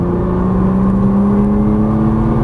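A Nissan GT-R on a race track under throttle, its engine a loud, steady droning whine with strong low rumble, held close and continuous from the cabin.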